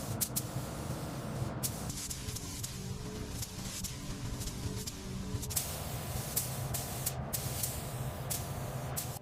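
A spray gun hisses steadily as gray primer goes onto car bodywork, a continuous airy spray with brief bursts and pauses, close and fairly even in level.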